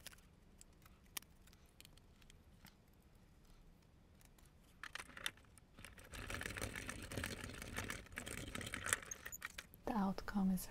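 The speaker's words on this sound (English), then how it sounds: "Let's cut them out. Here she is, my Gemini MIDI." A Crafter's Companion Gemini MIDI die-cutting machine runs with a low mechanical rumble and rising rattle through the second half, with soft clicks and handling noises before it starts.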